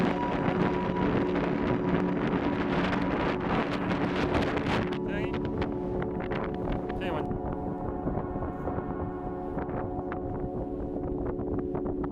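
Steady wind buffeting the microphone outdoors on a grassy hill by the sea on Gulupdo island, a constant roaring rush with a low droning hum underneath and no voices.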